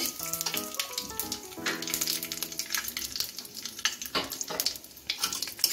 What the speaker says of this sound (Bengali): এখন আমি শুকনো লঙ্কা তেজপাতা দিয়ে দিচ্ছি।